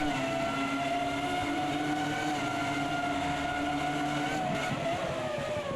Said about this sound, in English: as we see them flying round the corner